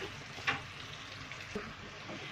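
Peppers fry in a pan with a soft, steady sizzle, and a couple of brief stirring scrapes stand out near the start and middle, heard close and quiet with no talk.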